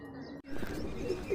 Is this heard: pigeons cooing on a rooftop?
yes